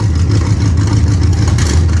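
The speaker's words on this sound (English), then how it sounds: "just revving up my car" A race car, a Monza, holds a loud, steady engine rumble at close range for two seconds, thick and throaty with small surges of revving and no one speaking.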